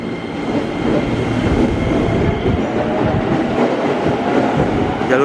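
A Tokyu 8000 series KRL Commuter Line electric train in new livery passes close and loud, with a steady roar of motors and wheels and faint rail clatter throughout.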